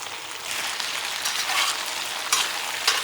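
Chicken and chopped ginger frying in a wok, a loud continuous hissing sizzle with bursts of crackle as the pieces are stirred, close up and free of talk.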